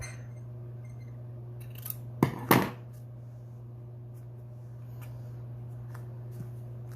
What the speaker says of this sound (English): I can always trim this so it's not causing an overlap.